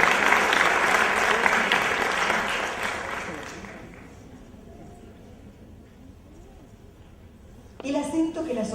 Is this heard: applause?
yes